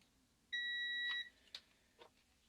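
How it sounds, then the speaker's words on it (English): A multimeter set to continuity gives one steady electronic beep, held for a little under a second, followed by a few small clicks and taps of the probes, close up with no speech. "So this is set to continuity. So if I touch these two together"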